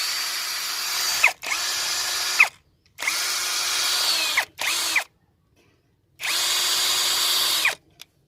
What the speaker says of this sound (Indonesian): Sini akan saya setel di mode beton, dan torsinya saya besarkan ya, langsung ke 20 dengan speed yang paling kencang ya.